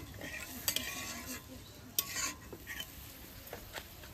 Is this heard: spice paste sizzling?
yes